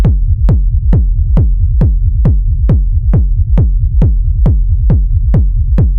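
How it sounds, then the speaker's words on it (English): A soloed techno kick drum layered with a rumble kick thumps in a steady four-on-the-floor pulse, about two beats per second, each sharp click followed by a deep, rolling sub-bass tail, loud and alone with no voices. "And now when you go and solo the kick drum and the rumble, it sounds like this."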